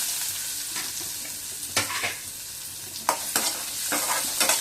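Cumin, onion and dried chilies sizzle in hot oil as a tempering for a bottle gourd dish, a steady close hiss with a few sharper stirring scrapes and clicks, no voices.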